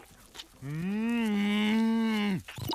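A cartoon cow gives one long, steady, close moo lasting nearly two seconds, clear and loud over light background sound.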